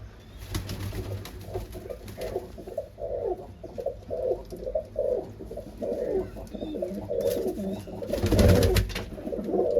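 Several pigeons coo continuously, up close, in a rooftop setting with new pigeon baskets. The low, throaty calls are steady throughout and swell louder near the end, with no talk.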